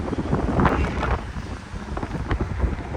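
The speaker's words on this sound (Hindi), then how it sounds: "इतनी तेज हवा चल रही है" Strong wind buffets the microphone on a high mountain road on the way to Jispa in Ladakh, a loud rough rumble with gusty surges and no voices.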